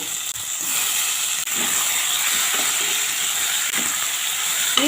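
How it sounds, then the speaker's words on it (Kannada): Eggplant hits a hot pan with tomato already cooking for a dried fish dish, giving a steady, loud, close hiss and sizzle that holds unbroken throughout with no voices. "ಈಗ ನಾನು ಇದಕ್ಕೆ ಕ್ಲೀನ್ ಮಾಡಿ ಇಟ್ಕೊಂಡಿರುವಂಥ ಬದನೆಕಾಯಿಯನ್ನು ಹಾಕ್ತಾ ಇದ್ದೇನೆ"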